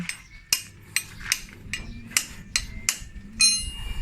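A metal part for blocking the EGR on a Honda CRF300L motorcycle is hammered flat, about nine sharp ringing metallic strikes at an uneven pace, close and loud.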